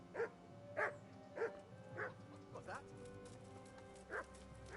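A dog in the video game Kingdom Come Deliverance gives a string of short barks and yips at an irregular rhythm, sounding fairly near over a quiet background.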